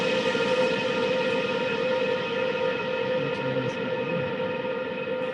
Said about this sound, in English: This VCO has like 8 different models of sounds it can make.